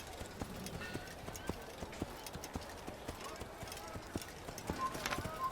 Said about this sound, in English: I ride a horse this fast